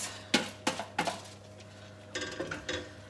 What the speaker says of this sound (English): Lamb is all charred, so that is now going in with everything else